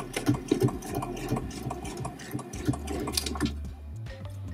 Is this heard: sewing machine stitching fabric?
yes